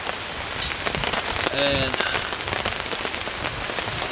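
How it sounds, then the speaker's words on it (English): Steady rain drumming on a tarp at a bikepacking campsite, a dense close patter with no break, and a single spoken word heard briefly. "raining. Wasn't supposed to, but it is."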